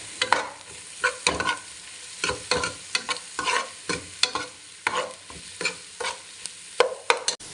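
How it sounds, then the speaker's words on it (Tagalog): Garlic sautéing in butter in a pan for Filipino-style spaghetti: a steady close sizzle broken by repeated scraping strokes of a spatula stirring, in an even rhythm. "Ayan, sunod na nga po natin yung bawang. Lagyan nga po natin ng butter."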